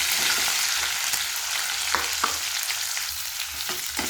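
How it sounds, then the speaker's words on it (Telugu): Onions and curry leaves frying in a pan give a steady, close sizzle with occasional stirring scrapes and sputters throughout, no talking. "తర్వాత కరివేపాకు తర్వాత ఆనియన్స్ వేసుకోవాలి"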